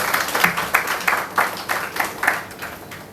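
An audience at a book launch claps loudly, with a burst of applause in rapid, uneven rhythm that carries on steadily through the whole moment, close and full.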